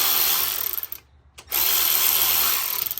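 A power tool whirs loudly while removing a bolt on a BMW 335d engine. It runs in two close bursts separated by a short pause.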